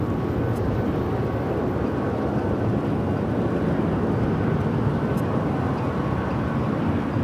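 A steady, loud broadband roar of an Air France Boeing 777-300ER jet landing on runway 25L at LAX, continuous and unbroken for the whole stretch with no voices.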